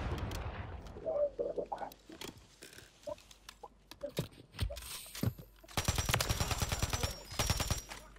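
Video game gunfire cracks out in scattered single shots, then rapid dense bursts near the end, with faint voices in between.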